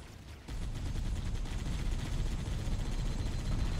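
Turret firing in the Halo 1 video game, a dense, continuous loud roar of rapid gunfire that kicks in after a brief quieter moment and holds steady with no voice.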